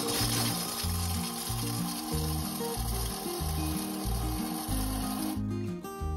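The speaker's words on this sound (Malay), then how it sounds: "Mula-mula masukkan dark coklat, kemudian masukkan milk coklat, tutup dan kisar selama 6 saat," A Thermomix TM6 grinds dark and milk chocolate at speed 6, producing a steady, loud, gritty whir with rhythmic pulsing that cuts off near the end.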